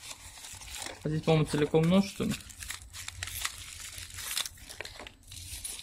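A small plastic bag crinkles and rustles close up while a knife is unpacked, the crackling running under and after a man's speech.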